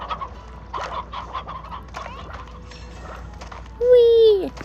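Chickens in the video game Slime Rancher give scattered clucks over several seconds, ending in a louder drawn-out squawk, with a person talking at the same time.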